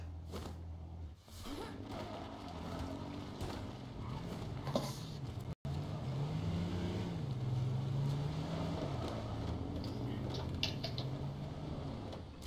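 A car drives in the H1Z1 video game with a low engine drone that rises and shifts in pitch, creaking mechanical noises over it, and a brief dropout midway.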